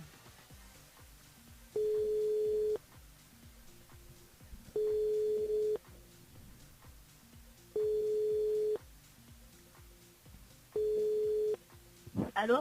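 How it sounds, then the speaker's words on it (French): Phone call ringback tone on a radio show's line, four long even tone bursts about three seconds apart over faint background sound, ending as the call is answered. "Ça sonne au moins."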